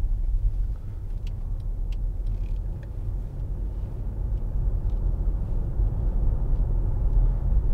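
Low, steady road rumble and engine drone from inside a 2013 Mercedes-Benz E-Class E250 2.1-litre estate while driving, continuous with faint higher clicks over it.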